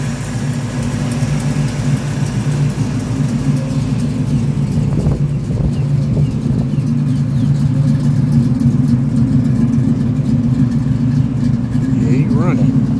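Classic car engine idling steadily nearby in a garage, a loud, even low hum throughout, with voices talking over it at times.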